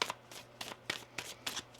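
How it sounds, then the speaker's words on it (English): A deck of tarot cards is shuffled up close, several quick riffling snaps in an uneven rhythm, quiet and without speech. "One more shuffle here."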